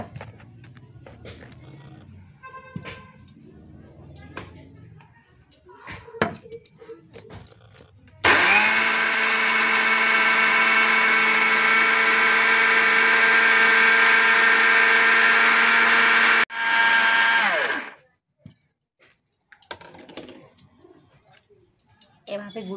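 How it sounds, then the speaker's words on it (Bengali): An electric mixer grinder grinds washed rice into powder with a loud, steady whirring roar lasting about ten seconds and a brief stop near the end, framed by quieter kitchen handling and clinks. "এটাকে গুঁড়ো করব মিক্সিতে।"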